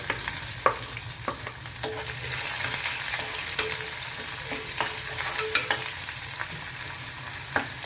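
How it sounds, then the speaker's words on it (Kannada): Finely chopped onion frying in a pan of oil with browned urad dal for vegetable upma, a steady close sizzle broken by scattered clicks and scrapes of stirring throughout, with no voices. "ಇವಾಗ ಇದಕ್ಕೆ ಸಣ್ಣಗೆ ಹೆಚ್ಕೊಂಡಿರೋ ಉಳ್ಳಾಗಡ್ಡಿ ಹಾಕೋತೀನಿ."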